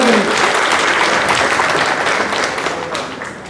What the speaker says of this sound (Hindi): वो एक बार जोरदार तालियों से उनका अभिवादन करें